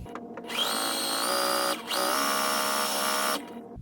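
A sewing machine joins quilt pieces with a quarter-inch seam, a close, steady motor whine that runs about three seconds with a brief dip partway through before cutting off.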